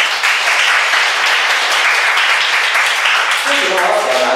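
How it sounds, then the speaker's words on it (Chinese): Congregation applause at a church service, a loud sustained roar of many hands clapping, with a voice rising over it near the end. "我们用掌声让他鼓励一下"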